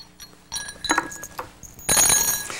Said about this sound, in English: The 6 keys go in the glass.